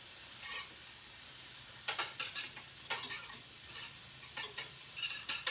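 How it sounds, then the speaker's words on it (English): A whisk scrapes and clatters through bits of bacon frying in a pan, in several short bursts of stirring over a low, steady sizzle, heard close up. "Use a whisk, I guess. See if I can separate all the little pieces."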